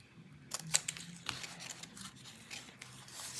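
Scissors trimming folded paper for a handmade art book, a few quick close snips and crisp rustles, quiet with no talk.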